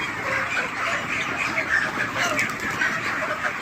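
Dense, continuous chirping and peeping from many chicks crowded together while feeding, a busy flock-wide chatter with no pauses.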